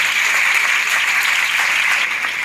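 An audience claps for the Rotary Club in a dense, steady round of applause, loud and close throughout with no pauses.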